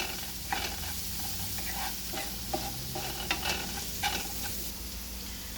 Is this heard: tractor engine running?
no